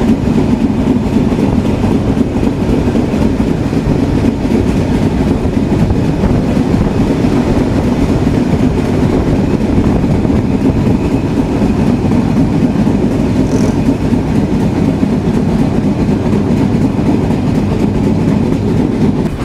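The Intercity Chitra Express runs through Fultala railway station near Khulna at night, a loud, steady rumble and rattle of wheels on track heard from on board, continuous throughout with no voices.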